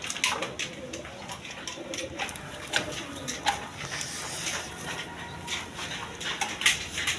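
Red Gola pigeons in a cage, with soft coos and wing rustles mixed into busy background noise.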